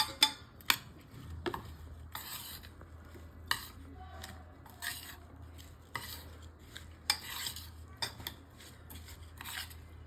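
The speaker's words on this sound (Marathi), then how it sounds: "हे सर्व जिन्नस एकदम व्यवस्थित मिक्स करून घ्यायचे" A spoon stirs besan chila batter with crushed onion, spices and oil in a bowl, making intermittent clinks and scrapes in irregular bursts over a quiet background.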